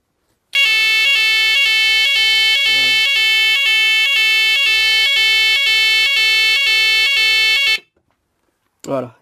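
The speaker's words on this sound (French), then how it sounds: "donc la sirène va sonner. Attention les oreilles." A loud fire alarm siren blares in a rapid, steady pulsing pattern for about seven seconds, then cuts off, followed by a brief voice, during a test on a Nugelec fire alarm control panel.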